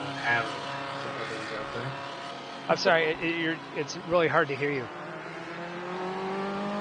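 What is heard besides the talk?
race car engine noise from a sim racing game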